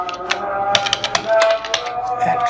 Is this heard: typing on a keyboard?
yes